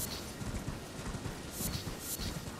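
Hooves clip-clopping from a mounted rider's horse in Elden Ring, a rapid rhythmic stream of soft thuds, faint and distant, heard alone.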